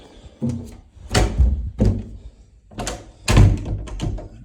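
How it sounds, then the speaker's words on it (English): Several wooden doors are pushed shut and latch in turn during a house walk-through, each giving a solid thunk with a click, close and fairly loud, with short pauses between them. "Door closes and latches."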